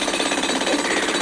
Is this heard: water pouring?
no